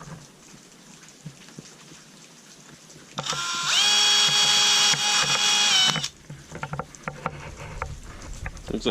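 Power drill boring a small pilot hole while fitting a Polaris brand upper door on a Polaris General, a steady high whine for about three seconds, close and loud, with scattered handling clatter before and after.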